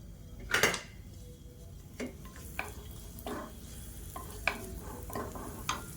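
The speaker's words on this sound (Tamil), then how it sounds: "எண்ணெய் சூடானதும் 3 துண்டு பெருங்காயம் சேர்த்துக்கலாம்" Three pieces of asafoetida fry in hot oil in a kadai, a soft low sizzle under sharp metal clinks and scrapes of a spoon against the pan, spaced irregularly.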